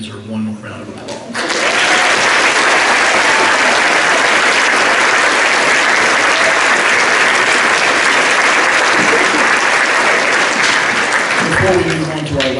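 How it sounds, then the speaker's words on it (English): Loud, sustained applause for a county senior high honors band at a concert, starting abruptly after a moment of quiet and holding as a dense wall of clapping before tapering off at the end. "everyone in the band, they deserve one more round of applause"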